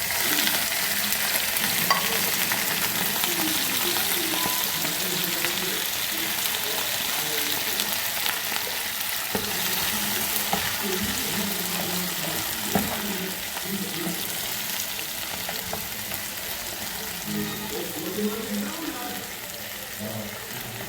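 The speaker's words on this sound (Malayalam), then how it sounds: "ഇനി നമുക്ക് അരിഞ്ഞ് വെച്ചിരിക്കുന്ന വെണ്ടയ്ക്കായും ഉള്ളിയും പച്ചമുളകും കൂടെ നമുക്ക് ഇതിൻ്റെ അകത്തോട്ട് ഇട്ട് കൊടുക്കാം." Chopped okra, onion and green chillies sizzle in a hot pan, a continuous frying hiss broken by repeated scraping and stirring strokes of a spoon, close and fairly loud.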